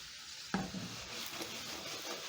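Potatoes and sausage frying in a pan give a steady soft sizzle, with one sharp knock or scrape of a utensil near the start.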